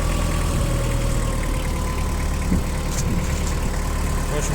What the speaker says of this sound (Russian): вот так работает двигатель